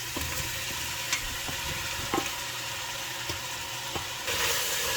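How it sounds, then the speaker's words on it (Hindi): Boiled mutton fries in oil in a kadhai, giving a steady, close sizzle and crackle with occasional sharp taps of a spoon stirring against the metal pan. No one speaks. "अब आप इसको अच्छे से भून लें।"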